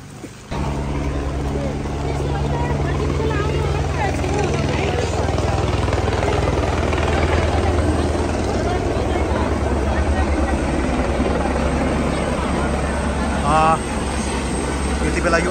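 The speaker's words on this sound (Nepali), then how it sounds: "यति बेला यो आर्मीको हेलिकप्टर" An army helicopter flies over a flooded village where a river has run through the houses, its rotors giving a continuous heavy throbbing drone that stays loud throughout, with people talking beneath it.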